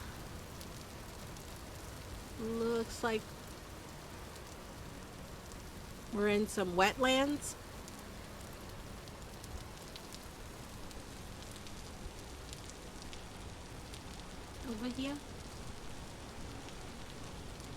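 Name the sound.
rain falling in the video game Vintage Story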